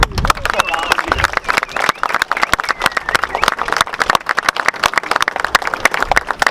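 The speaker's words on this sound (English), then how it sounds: "I'll give a round of applause for volunteers" Applause for park volunteers from an outdoor audience at Castillo de San Marcos, a fairly loud run of brisk clapping with some crowd murmur and talk mixed in.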